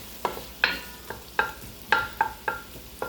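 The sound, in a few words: onions sizzling and stirred in butter in pan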